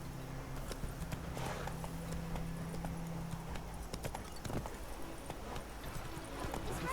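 Roach the horse gallops in The Witcher 3 video game, with a steady run of hoofbeats continuing throughout over a constant low background hum.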